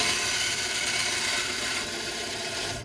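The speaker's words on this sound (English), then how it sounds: "So I'm going to start by cutting off this threaded end here using my bandsaw." A bandsaw cuts through plastic sprinkler tubing with a steady, close rasping buzz that holds for nearly three seconds before tapering off.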